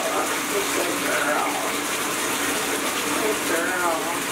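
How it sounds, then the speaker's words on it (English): Warm water pours steadily from a tap while a puppy is bathed, a constant close rushing with faint voices underneath. "Should we turn on warm water or something?"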